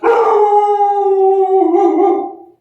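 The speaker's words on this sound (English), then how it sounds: "golly knows what she was barking at" A dog named Domino gives a loud, drawn-out howl close up, one sustained mournful tone that wavers and fades at the end, with no other sounds.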